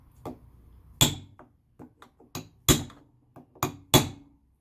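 Repeated tapping on a Suzuki GT750 gauge part, pressed down segment by segment on a makeshift surface: a series of sharp, close knocks at an uneven pace with quieter taps in between, no voices.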